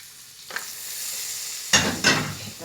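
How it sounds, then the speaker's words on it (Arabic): Hot spiced oil poured over a baked Egyptian clay-pot tagine, giving a soft stir and hiss, then two loud, close bursts of sizzling that fade off, with no talking. "طشة بقى"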